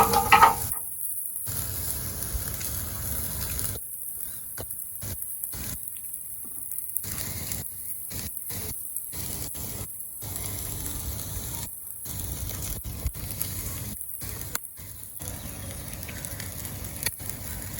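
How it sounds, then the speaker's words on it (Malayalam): Fish laid on a charcoal barbecue grill over glowing embers, Kerala style, giving a steady close hiss and crackle of sizzling throughout, broken by abrupt cut-outs to silence, with no voices. "മീൻ ഇനി ബാർബിക്യൂ സ്റ്റാൻഡിൽ വെക്കാം"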